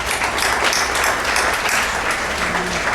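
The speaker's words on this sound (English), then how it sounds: "let me give you a round of applause for your being selected for this award" A large audience at the 2016 American Legion Auxiliary Rhododendron Girls State opening session breaks into loud, dense, steady applause that fills the room evenly throughout, with no one speaking over it.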